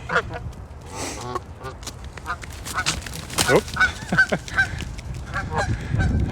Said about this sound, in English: That was another goose chasing them.